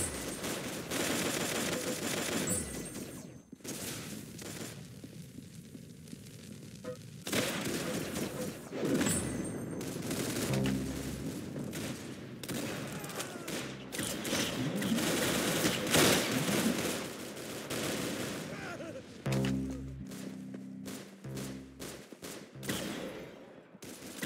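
Bursts of gunfire in a shooter game, rapid volleys and single cracks coming in uneven clusters, some loud and close, others thinner, with brief pauses between.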